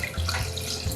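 Water poured into a thickened, gel-like keto gravy mixture, a steady close-up running stream lasting about a second with no talking.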